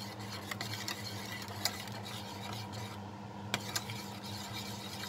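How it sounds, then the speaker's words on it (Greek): A spoon stirring butter into pudding cream in a pot, a soft continuous scraping and rubbing with a few sharper clinks against the pot, close and steady without talk. "Θα ανακατέψω μέχρι να μην βλέπω το βούτυρο"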